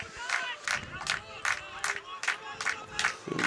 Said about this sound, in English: It's the Finnish fans that you can hear in the background clapping.